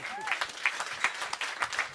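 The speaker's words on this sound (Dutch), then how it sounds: "Applaus voor onze Gerard." An audience at a beer festival claps in scattered, uneven bursts, moderately close and fairly light, with a brief whistle near the start.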